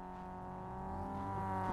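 Opponent's Mazda MX-5 race car engine in iRacing, a steady, faint droning hum that slowly builds in pitch and volume as it closes in.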